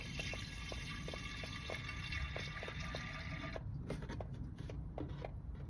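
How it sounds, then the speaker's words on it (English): Liquid pours from a jug into a van's reservoir, a faint, steady trickling with regular soft ticking in the background; it continues quietly throughout. "I'm pouring this in and the level's coming back up"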